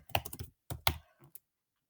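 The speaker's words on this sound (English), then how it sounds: "Okay, so I'm just going to type in here one example." Quick keystrokes on a computer keyboard come in two short bursts of rapid clicks separated by a brief pause, close and fairly soft, with no talking.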